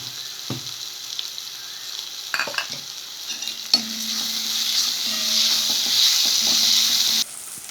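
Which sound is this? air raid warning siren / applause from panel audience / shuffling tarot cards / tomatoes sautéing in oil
tomatoes sautéing in oil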